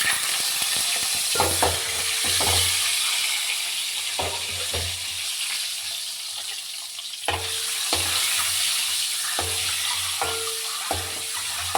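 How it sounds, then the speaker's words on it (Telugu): Eggs fry in hot oil with turmeric for an egg curry, a strong steady sizzle close by, broken by repeated short knocks and scrapes in the pan. "ఇప్పుడు ఆయిల్ వేడెక్కింది, ఇదిగో పసుపు వేస్తున్నాను. ఇప్పుడు గుడ్లు వేస్తున్నాను."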